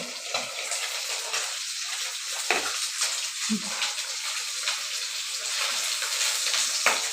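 Pabda fish frying in a pan of oil, a steady broadband sizzle with a few brief sharp pops and crackles, close and continuous throughout.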